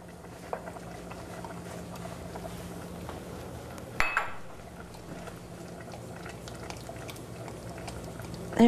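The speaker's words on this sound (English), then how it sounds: "Recall the cream doesn't curdle, so you can let it boil away." Mushroom risotto with cream bubbling in a pot, a soft steady simmering patter with a brief clatter midway, no talk.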